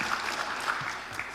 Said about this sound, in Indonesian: tepuk tangan buat Tergub B